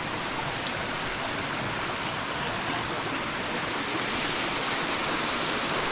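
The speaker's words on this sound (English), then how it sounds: "We've just come on Pellion Creek." Pelion Creek, a mountain stream on a bushwalking track, rushes steadily as a dense, continuous broadband hiss with no pauses or voices.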